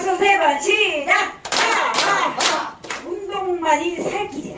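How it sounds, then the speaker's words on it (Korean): A group claps hands in a laughter exercise class at a health center, with quick broadband claps bunched in the middle, surrounded by loud voices calling and chanting. "박수 세 번, 시작!"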